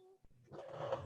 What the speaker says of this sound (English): every time Molly barks, like she gets surprised